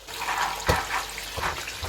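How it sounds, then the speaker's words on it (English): Canned red kidney beans being drained and rinsed, with a steady wash of pouring, splashing water that swells and dips for the whole stretch, close up and with no talking. "Now I'm just going to drain all of the beans, but I'm going to start with the red kidney beans because I want to give these an extra rinse"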